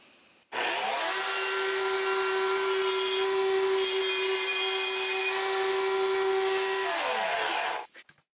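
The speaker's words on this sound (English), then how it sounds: "I'm going to go ahead and mill my first slot" Homemade slot mortiser milling a slot in wood, a loud, steady high-pitched router whine that starts abruptly, holds for about six seconds at close range and winds down at the end, with no talking.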